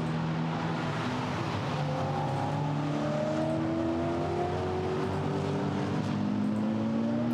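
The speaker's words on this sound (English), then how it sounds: "There it is coming into shot in the background, so that Maserati's got a good amount of pace now." A Maserati GT4 race car engine approaching on the Misano circuit, its rising engine tones blending with other cars in a continuous, fairly loud racing roar with no voices.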